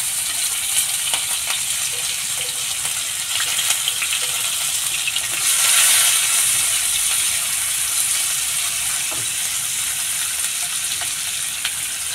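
Sliced onion, green chili, ginger and garlic fry in oil with a constant soft sizzle up close, briefly swelling midway, and no talking.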